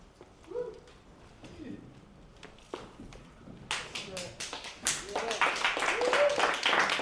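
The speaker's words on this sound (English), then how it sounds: "What was that applause for?" Audience applause rising in a hall after a call to stand, starting sparse and building into dense, loud clapping over the last three seconds, with murmuring voices beneath.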